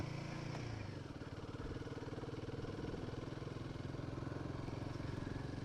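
Royal Enfield 350 motorcycles riding along a dirt track, a steady low engine drone with a pulsing rumble that holds throughout, moderately close and continuous, with no voices heard.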